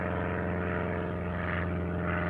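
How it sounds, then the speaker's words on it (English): A propeller airplane passes overhead outdoors, giving a steady droning engine hum that stays fairly constant for a couple of seconds, with no one talking. "Let me wait for this plane to pass."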